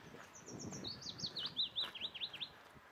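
A willow warbler sings in springtime at Thameside, giving a run of bright, sweet descending phrases that repeat in quick succession. It sounds moderately distant and clear against quiet outdoor background.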